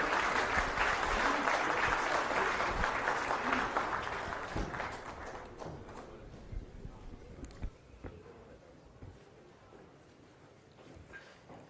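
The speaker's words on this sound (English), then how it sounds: "Big round of applause please." A gathering welcoming the chief minister at a Musi River rejuvenation event bursts into loud sustained applause that slowly thins out and fades to scattered claps.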